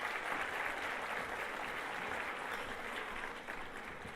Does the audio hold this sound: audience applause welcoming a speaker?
yes